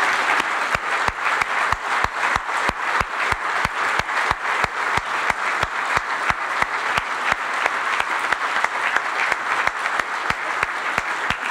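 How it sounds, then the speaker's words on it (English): Sustained audience applause greets Craig Pratt as he comes on stage, a dense, steady wash of many hands clapping at full volume throughout with no pauses and no talk over it. "give him a roaring applause to lift him up here on stage"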